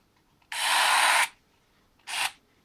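A Bosch GTB 12V-11 cordless 12-volt drywall screwdriver runs briefly without load, one whirring burst of under a second followed by a shorter second burst, close and loud in a quiet room.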